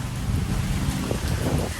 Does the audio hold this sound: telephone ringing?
no